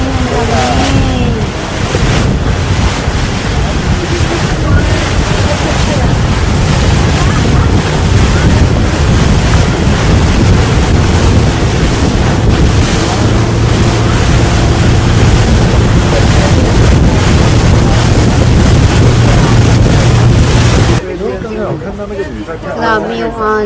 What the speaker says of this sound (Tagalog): Grabe yung alon. Taas ng alon.